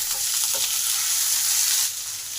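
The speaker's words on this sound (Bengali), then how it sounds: "তেল গরম হলে ডাঁটাগুলোকে প্যানে দিয়ে দিলাম" Drumstick stems hit hot oil in a pan, producing a continuous hiss of frying that stays even and close with no talk.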